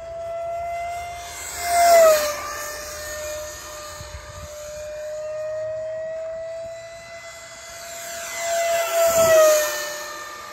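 An X-Fly T-7A Red Hawk 64mm EDF RC jet flies overhead, its steady high ducted-fan whine sweeping past twice with loud close passes and a quieter distant stretch between, no talking.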